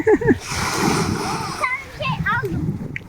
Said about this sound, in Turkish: dalga geliyor şimdi dalga